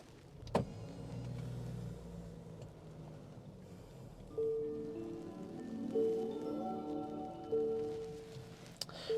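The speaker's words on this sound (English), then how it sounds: "let's go ahead and start it up with the standard push button start" A 2025 Nissan Murano's electric starter cranks briefly after a push-button start, then the engine catches and settles into a low idle with whirring motor tones rising and falling.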